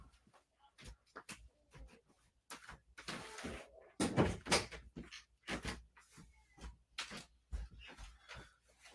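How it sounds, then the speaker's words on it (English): Indoor door being shut, a series of soft knocks, rattles and a heavier thud from handling the door, fairly close and faint, with no talking. "Hold on, I gotta shut the door."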